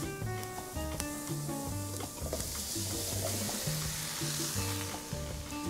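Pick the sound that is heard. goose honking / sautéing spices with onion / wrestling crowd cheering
sautéing spices with onion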